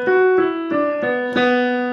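Piano playing the chorus of a song as a solo melody line: a string of distinct notes struck in a steady, even rhythm, close and clear with no voices.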